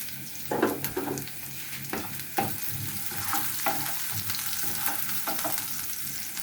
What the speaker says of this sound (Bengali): পেঁয়াজটা একটু ভালোভাবে বাদামি রং করে ভেজে নেব